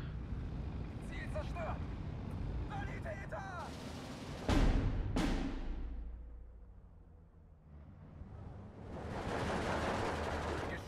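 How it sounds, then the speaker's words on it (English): MG42 machine guns firing in the WWII strategy game Steel Division 2: two sharp loud bursts of gunfire amid a rumbling battlefield, with someone talking over the opening seconds. "killed by MG42s"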